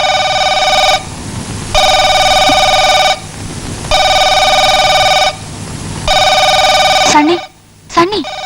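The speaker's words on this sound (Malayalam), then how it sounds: "They phone." A telephone rings loudly in a home at night, three long electronic trills with short pauses between them, followed by brief shuffling sounds, with no voices.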